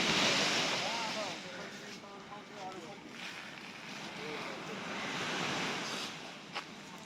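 Sea waves washing onto the beach at Batu Ferringhi, Malaysia, a continuous broad rushing surf with wind buffeting the microphone, fairly loud and steady throughout.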